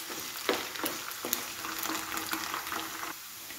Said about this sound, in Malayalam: ഇത്തിരി കറിവേപ്പിലയും കൂടി ഇട്ട് കൊടുക്കാം.